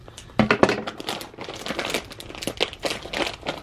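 A bag of seafood-flavoured chips is crinkled and cut open with scissors, giving close, irregular bursts of plastic crackling and snipping with no talking.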